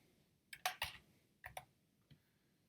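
Several clicky keystrokes on a computer keyboard, a few quick taps in small bursts with pauses between, close and fairly quiet, typing a search query into an AI tool, with no talking.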